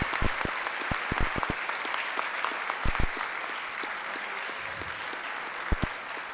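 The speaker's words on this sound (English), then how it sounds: "A round of applause for our lieutenants and captains." Sustained applause from an audience at a township council meeting honoring police lieutenants and captains, a steady wash of many hands clapping with a few sharp, louder claps standing out near the front throughout.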